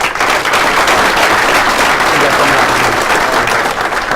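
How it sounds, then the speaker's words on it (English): An audience at a swearing-in ceremony breaks into loud, dense applause. Sustained clapping from many hands stays close and steady throughout, honoring a graduate's military service. "also a round of applause for his military service"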